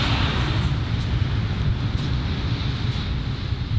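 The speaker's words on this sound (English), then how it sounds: "it's super windy here all of a sudden" Strong, gusty wind buffeting the microphone outdoors beside Lotte World Tower, a dense low roar that stays loud and constant without any talking.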